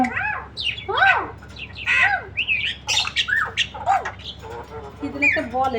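Common mynas (shalik) squawk and chatter in a busy, close series of harsh calls, rising whistles and chirps that overlap and repeat without pause.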